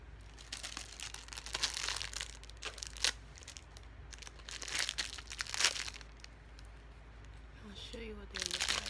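Crinkly plastic packaging holding fake plastic fingernail swatches is torn and rustled open, with bursts of crackling and crumpling that come and go for several seconds, close up and moderately loud.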